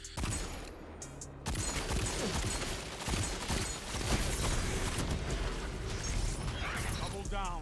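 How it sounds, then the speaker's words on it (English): Ace of Spades hand cannon fire in the video game Destiny 2 mixes with dense game effects, giving rapid, overlapping shots and mechanical clatter in a continuous loud barrage under talk. "the Ace of Spades is still an insane hand cannon"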